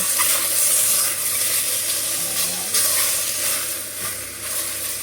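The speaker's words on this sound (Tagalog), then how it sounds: "Ayan muna natin maluto ng konti. Para dumikit yung amoy ng garlic at saka ginger sa mushroom natin." Shiitake mushrooms frying with garlic and ginger in a pan, a steady close, loud sizzling hiss that continues without pause.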